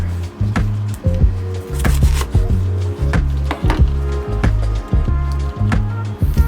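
A large sweet onion being chopped on a wooden cutting board, a fast steady run of close, solid knife thuds with brief pauses between bursts.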